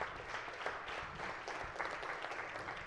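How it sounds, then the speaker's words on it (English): Applause rises in a state Senate chamber for a high school student serving as a page, a soft, even spread of many hands clapping at a distance with no voices over it. "let's all give a round of applause to Nikita Bott from Montgomery County"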